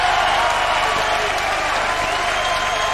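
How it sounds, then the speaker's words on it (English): A boxing crowd at the Wembley Conference Centre applauds on its feet at a 1996 British Championship bout, a dense, loud, steady wash of clapping and cheering close around. "Now the crowd here in the Wembley Conference Centre on their feet to acknowledge 2 great warriors."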